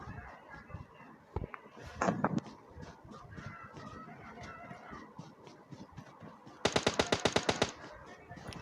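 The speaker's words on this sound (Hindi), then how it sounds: "इसके बाद पीछे से गोलियों की चलने की आवाज़ आई" Gunfire in the battle royale game PUBG, a scattered single shot and short bursts early on, then a fast loud string of about ten shots near the end, over low background game noise.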